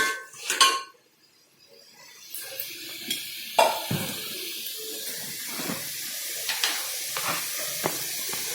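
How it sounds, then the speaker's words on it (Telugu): Onion pulusu gets stirred in a pot, with intermittent metallic clinks and scrapes of a spoon against the vessel over a soft background hiss. "మళ్ళీ కొంచెం ఒక నిమిషము ఇలాగా కలపాలి."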